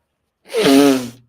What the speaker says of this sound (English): now I'm sneezing.